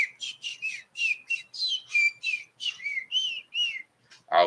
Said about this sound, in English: I'll whistle.